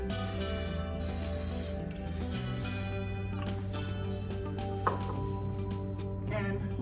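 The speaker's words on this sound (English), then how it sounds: "we're going to use our spray to spray onto the waffle maker so it doesn't stick" Cooking spray hisses onto a waffle maker in a few bursts, each a loud, sharp aerosol spray lasting about a second, followed by quieter clicks and kitchen handling sounds.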